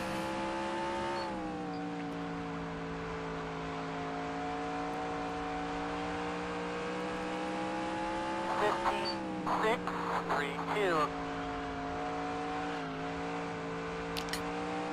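Steady drone of NASCAR race car engines in NASCAR Racing 2003, a sustained whine with shifting pitch running throughout, with someone talking over it.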